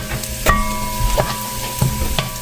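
Garlic fries in a pan, a steady close sizzle punctuated by a few sharp scraping stirs and metallic taps, with no voices.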